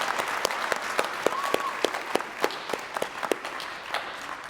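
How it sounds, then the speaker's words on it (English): An audience at an awards night claps steadily, with many overlapping hand claps and distinct individual slaps standing out, moderately distant and sustained throughout. "you can clap if you want"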